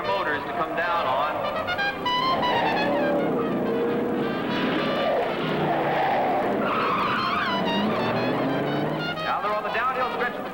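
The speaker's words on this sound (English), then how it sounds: "They're braking way up on the hill, ladies and gentlemen, and using their motors to come down on." Several 1950s hot rods brake and skid on a downhill hairpin race course, tires squealing and wailing in long overlapping sweeps over engine noise for the whole stretch, with an announcer's voice talking over the action.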